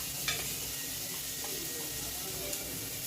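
Egg curry sizzles in a pan while it is stirred, a soft, steady frying hiss broken by a few faint scrapes of the spoon.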